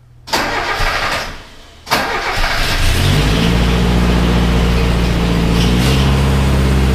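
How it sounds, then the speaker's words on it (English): A Mazda B2000 engine fitted with a header and no exhaust cranks briefly, stops, then catches and settles into a steady, fairly loud idle with a raw, rumbling tone. "so we'll go ahead and have Luke start the car"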